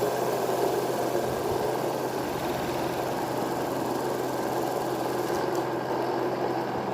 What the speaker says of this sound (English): the radial stator with the rotor is working